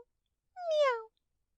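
A kitten gives one clear, close meow that falls slightly in pitch and stands alone against silence.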